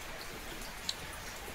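Rain falls steadily in a soft, even hiss, fairly faint and unbroken, with one brief sharper drip partway through.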